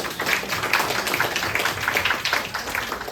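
A church congregation claps for God during a Sunday service, giving a steady, dense round of applause throughout with no voices over it.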